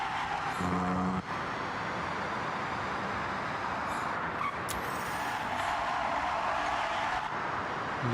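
A car in Forza Horizon 6 losing traction, its engine droning steadily with a brief tire-skid squeal and a few sharp clicks partway through, loud and continuous with no talking.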